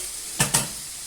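Two quick scraping stirs of chopped tomato in a pan, a brief pair of swishes against a faint sizzling background, close by with no talking.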